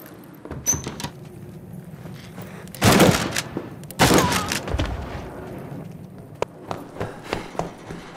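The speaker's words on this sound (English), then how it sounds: "Shotgun, here we go." A shotgun firing in the video game This War of Mine: two loud, separate blasts a second apart, with faint scattered thumps and footsteps around them.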